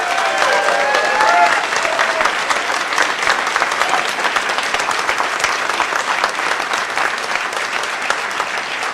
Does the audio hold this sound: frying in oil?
no